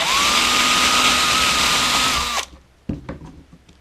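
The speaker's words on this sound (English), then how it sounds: "I'm just going to drill the holes out of" A power drill whines loudly and steadily while enlarging holes in a gasket, then cuts off abruptly, followed by a few quiet clicks and knocks.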